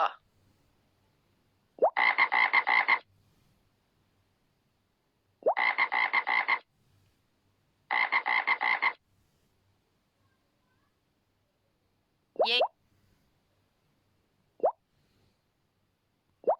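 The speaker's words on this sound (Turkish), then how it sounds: "Kurbağa." Frog croaking: three loud buzzing croaks in a slow, evenly spaced series, then a few brief chirp-like calls, close and alone against near-silence.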